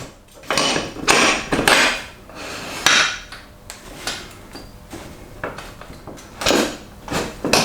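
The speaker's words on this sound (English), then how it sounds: "now we will insert the axle from the other side" Metallic clunks, scrapes and taps as a motorcycle rear axle is pushed through the wheel on a Suzuki V-Strom 800, a series of irregular close knocks and rattles with no talk.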